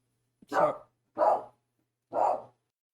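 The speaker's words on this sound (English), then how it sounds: "My dogs, the hazards of recording live." Dogs barking indoors, three separate loud barks evenly spaced over a few seconds, each short and sharp with silence between them.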